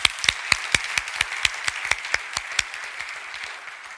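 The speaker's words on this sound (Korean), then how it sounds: "우리 하나님께 영광의 박수 드리겠습니다." A church congregation applauds in praise during an evangelism teaching service: dense, steady clapping from many hands, loud and close, lasting several seconds with no voices over it.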